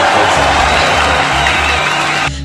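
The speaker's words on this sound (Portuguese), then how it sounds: "Aplausos, meu amor." A crowd bursts into loud, sustained applause and cheering, a dense wash of clapping and whoops that holds steady and then cuts off abruptly at the end.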